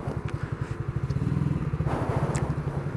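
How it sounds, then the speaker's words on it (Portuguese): A parked motorcycle idles nearby, a steady low chugging beat with a faint mechanical clatter, growing slightly louder toward the end, without speech. "Agora não vou desligar, vou primeiro achar um canto pra deixar a moto aqui"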